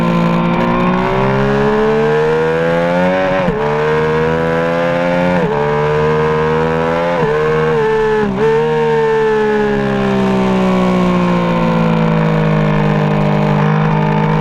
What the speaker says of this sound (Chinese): 先给大家听一下这个3缸的发动机声浪